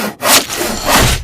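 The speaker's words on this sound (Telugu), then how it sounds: "రంపంతో ముక్కలు ముక్కలుగా కోసి" A handsaw cuts through wood, the strokes sounding as loud, rasping back-and-forth bursts with a brief gap near the start, close and without speech.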